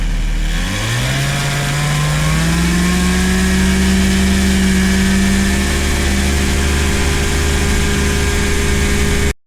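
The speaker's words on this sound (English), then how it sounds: "Smoothly advance to full throttle." AirBike ultralight aircraft engine throttling up smoothly to full power for takeoff, its drone rising in pitch over the first second and then holding a steady, loud, continuous roar close by.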